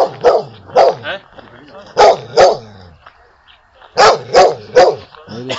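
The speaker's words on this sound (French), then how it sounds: "Là, ils ont un chien de neige," A dog barks in the snow in Slovakia: loud, close barks come in bursts of two or three with short pauses between them.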